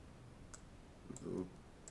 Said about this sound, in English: Then I'll right click and I'll finish the selection.